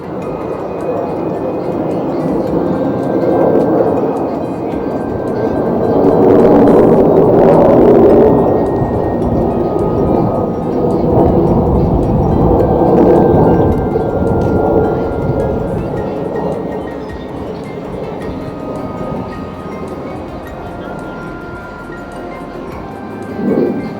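Five white airplanes fly in formation at an air show in the USA, producing a loud, continuous roar that builds to a peak partway through and then slowly fades.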